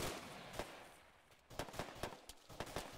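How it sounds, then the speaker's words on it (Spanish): Scattered video game gunshots crack at a distance in ARMA 3, a few isolated bangs followed by a quicker irregular burst of fire. "estamos recibiendo disparos"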